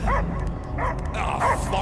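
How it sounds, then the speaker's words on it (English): A dog barks and yips in the Guardians of the Galaxy video game, three loud bursts spaced across the moment over a steady low game-score rumble. "I hear only barking."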